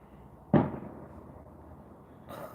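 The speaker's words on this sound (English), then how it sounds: "You hear the fireworks?" A single firework bang goes off at a distance, a sharp thump whose rumble fades over about a second, then a fainter crackle near the end, with no voices.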